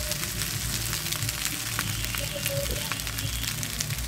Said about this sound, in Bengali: এভাবে সুন্দর করে ভাতটা ভেজে নেব